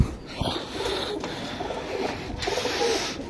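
Pigeons coo softly in a loft or enclosure, with steady low murmuring and rustling, close by and alone with no talk.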